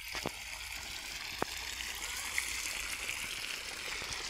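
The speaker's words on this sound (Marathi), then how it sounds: "सोलरची मोटर चांगलं पाणी मारत आहे ना बा।" Water gushes and splashes steadily from a solar-powered motor pump outlet on a farm, a continuous rushing flow with a couple of brief clicks.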